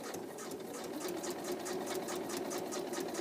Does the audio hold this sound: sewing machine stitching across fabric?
yes